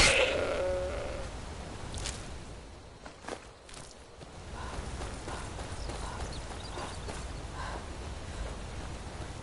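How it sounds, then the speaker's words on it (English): Goats in Skyrim bleating, with clip-clop hooves stepping over ground, a bleat near the start and scattered footfalls amid faint game ambience. "More goats."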